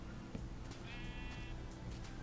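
A sheep bleats once in the Minecraft video game, a short wavering call standing out over a dense, noisy background.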